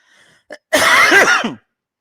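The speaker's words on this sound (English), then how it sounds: "Excuse my cough." A single harsh cough bursts out close by, preceded by a brief throat sound, then silence.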